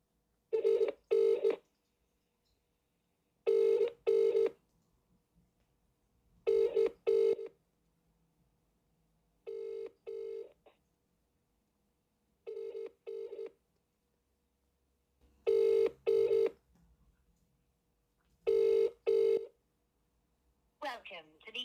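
Telephone keypad dialing tones come in short paired bursts, roughly eight groups spread evenly across the clip, loud and clear against near silence, while a cold call to a business prospect is placed.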